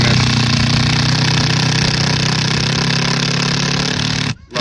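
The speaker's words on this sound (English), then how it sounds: "pre-drill your hole, put the one in, then pre-drill your hole, put your second one in." A power drill pre-drills and drives lag screws into a roof truss during a solar racking install on a roof being shingled. It is a loud, steady, buzzing whir that runs for about four seconds and then cuts off abruptly.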